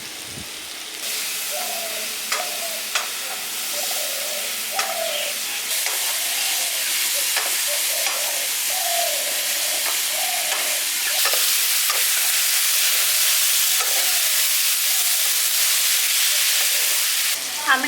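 Sliced hog plums fry lightly in hot oil in a village kitchen, giving a steady bright sizzle, and a spoon scrapes through them again and again in a loose rhythm. No voices are heard.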